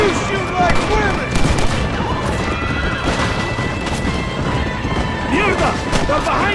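Dense gunfire in a shootout with rebels in the video game Red Dead Redemption, loud and continuous cracks and crashes layered over background shouting and music-like tones.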